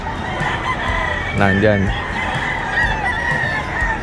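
A rooster crows loudly once amid a busy backdrop of many clucking chickens at a market with sellers in Bocaue, Bulacan, with a voice speaking briefly.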